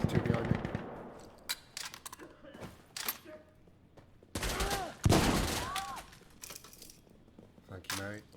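An M249 machine gun fires in Insurgency Sandstorm in several sharp, rapid bursts with spent-casing clatter between them, while players talk over the shooting.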